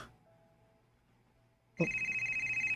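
A telephone starts ringing for an incoming call partway through, after a quiet stretch. It rings loud and close in a steady repeating electronic pattern, with no talk over it.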